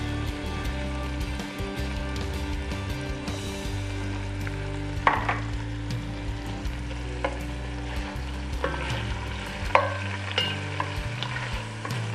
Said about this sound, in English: We just stir them around, get them brown on all sides.